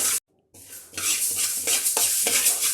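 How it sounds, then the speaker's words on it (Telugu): Fenugreek seeds frying in a pan for an eggplant pickle, a bright steady sizzle after a brief silent gap, with rhythmic spoon stirring and scraping against the pan. "మెంతులు కూడా ఒక నాలుగు స్పూన్లు కొంచెం ద్వారగా వేపుకోవాలి"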